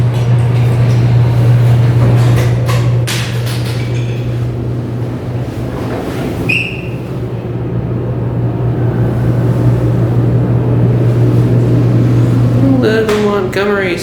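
A Montgomery hydraulic scenic elevator in a mall in Newark, California runs with a steady, loud low hum throughout its travel, with clunks and faint chimes near the end and a voice speaking briefly.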